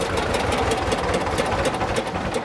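A tractor hauling sugarcane idles nearby, a loud, even mid-pitched engine chug with rapid regular knocking pulses throughout.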